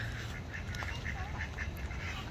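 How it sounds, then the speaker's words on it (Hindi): A group of ducks wanders around a park pond, quacking in a steady run of repeated nasal calls at mid-distance over soft outdoor ambience. "यहाँ पर तो बत्तख का कुंबा है पूरा, ये सारी बत्तखें घूम रही हैं"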